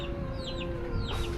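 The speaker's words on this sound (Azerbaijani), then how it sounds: "Burada hər yerdə toyuq və ya xoruz görə bilərsiniz." Chickens and roosters clucking outdoors in Hawaii, several quick close clucks and short calls over a steady low background hum, no talk.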